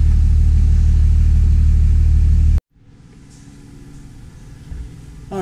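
A compound-turbo Cummins diesel truck engine idles loudly and steadily, then cuts off abruptly and returns as a lower, building rumble as the truck backs out of a shop.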